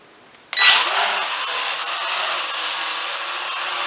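A Visuo XS816 drone's propellers spin up abruptly after a moment of quiet, then hold a loud, steady high-pitched whir while it hovers close by.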